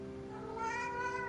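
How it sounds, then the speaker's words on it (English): A cat in the video game The Puzzler lets out a single drawn-out meow that rises in pitch and swells slightly toward the end, heard alone at modest volume. "Meow at the cat again."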